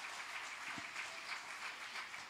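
Congregation applauding in a church service, a faint, distant, continuous patter of clapping from many people.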